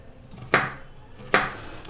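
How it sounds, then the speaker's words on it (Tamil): Shallots and tomatoes being finely chopped with a knife on a board, heard as two sharp, close knocks spaced almost a second apart against a quiet background. "இதுக்கு நம்ம சின்ன வெங்காயம், தக்காளி இதெல்லாம் பொடி பண்ணியாக கட் பண்ணி எடுத்துக்கலாம்"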